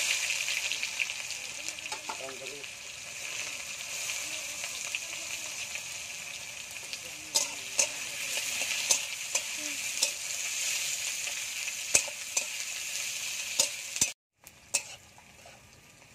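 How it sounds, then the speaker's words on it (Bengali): Chopped onions frying in oil with whole cardamom, cloves, cinnamon and dried chillies, a steady close sizzle with occasional stirring scrapes and spatula knocks, no talking. "পেঁয়াজটা ভাজা হয়ে গেছে।"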